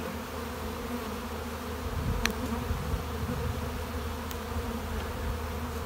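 Honeybees buzz at a small hive, a dense, continuous drone close by with no pauses and no voices.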